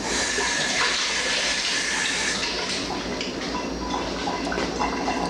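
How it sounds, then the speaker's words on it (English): A spoon is rinsed under a running kitchen tap, giving a steady, close rush of water splashing that holds evenly throughout with no talking. "So let me rinse my spoon again."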